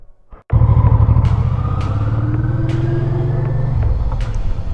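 A motorcycle engine starts up loud and close after a brief quiet moment, then holds a steady rumbling idle with slight revs, heard alone on a winter ride near Peresopnytsia in the Rivne region of Ukraine.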